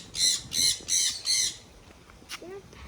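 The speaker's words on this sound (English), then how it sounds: "They're parrots." Mini parrots in an aviary give four loud, rapid squawks in a row, then fall quiet apart from a softer call and a brief chirp near the end.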